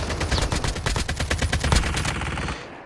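Rapid automatic gunfire from a gun in the mobile shooter Call of Duty Mobile, a loud close burst of evenly spaced shots rattling for over two seconds before cutting off.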